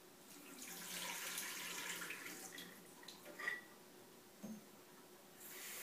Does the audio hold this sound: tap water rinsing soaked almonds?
yes